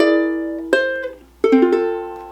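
Solo ukulele plays bar 18 of a tune: two plucked chord strikes with ringing sustain, the second followed by a few quick picked notes of a little bass line, close and clear with no talking.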